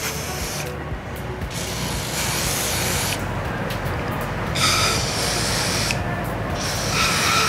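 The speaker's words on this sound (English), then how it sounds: "Same thing, a little bit of hairspray." Hairspray spraying from an aerosol can onto the handlebar of a 2019 Royal Enfield Continental GT 650 while fitting ODI grips, heard as steady broadband hissing bursts that run almost continuously and fairly loud throughout.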